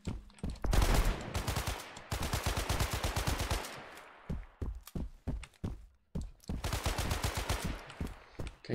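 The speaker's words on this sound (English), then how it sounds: "He's shooting at me." Gunfire from an enemy priest in a video game: several bursts of rapid automatic shots, loud and close, with pauses between volleys and one burst of single thumping shots; a voice talks now and then.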